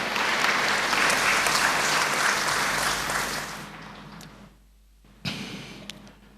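A seated audience at a National Elderly Day ceremony in Indonesia claps steadily and loudly for the elderly, then the applause fades out, leaving a brief quiet and a few faint sounds.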